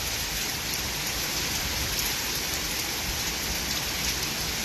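Heavy rain pours down steadily, a dense, loud hiss of drops drumming on surfaces without letup.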